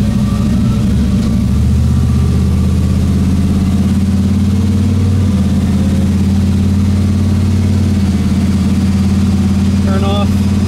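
Car running on pump gas with a new exhaust, a loud, steady low engine drone that rises in pitch midway and holds, with someone talking over it.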